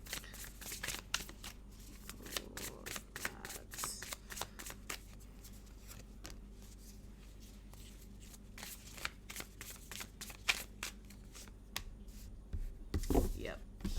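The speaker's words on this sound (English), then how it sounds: "as I'm shuffling for the collective" Tarot cards shuffled by hand in a quiet room, producing a steady stream of rapid riffling flicks and soft slaps that run close to the microphone, with a brief spoken voice near the end.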